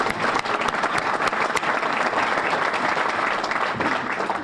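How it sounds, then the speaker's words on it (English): Sustained applause from an audience honoring a team, dense steady clapping filling the whole stretch with a few sharper claps standing out near the start, loud and continuous throughout. "I think they deserve a big round of applause."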